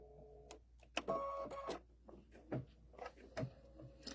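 A home embroidery machine stitches a placement line, giving faint, irregular mechanical clicks, taps and short whirring bursts close by in a quiet room.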